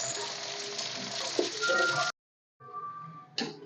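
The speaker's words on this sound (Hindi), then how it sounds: "अब मैं तोरियाँ डाल दूँगी, हल्का सा तोरियाँ को भी हमने फ्राई करनी है" Ridged gourd slices fry in a pan with a close, busy sizzle that cuts off abruptly into silence for half a second, then resumes more quietly with a brief louder burst near the end.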